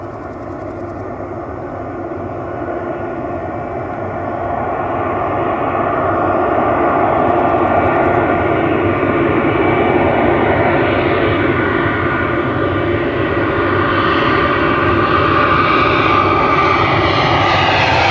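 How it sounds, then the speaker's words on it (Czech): An Aeroflot Airbus airliner takes off at an airport, its jet engines roaring loud and close, swelling steadily in power and staying strong throughout with no voices. "Bude startovat Aeroflot a je to Airbus"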